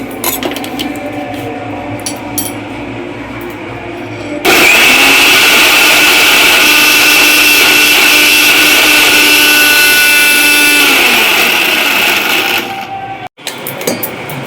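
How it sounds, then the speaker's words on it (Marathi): A kitchen mixer grinder whirs loudly as it grinds dry ingredients without water for a Konkan vegetable dish, starting abruptly after a quieter stretch, running steadily for about eight seconds and then cutting off. "बिना पाण्याशी मिक्सरला लावायचं."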